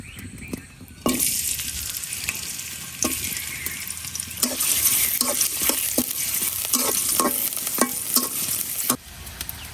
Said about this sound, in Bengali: পেঁয়াজটা হালকা ভাজা হয়ে গেছে, এখন আমি যে করলা আর আলু কাটে রাখছি এগুলা দিয়ে দেম।